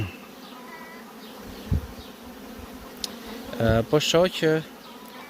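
A large swarm of honeybees drones steadily around a hive. Sharp knocks and short bursts of sound come near the end, and someone speaks briefly over the buzzing.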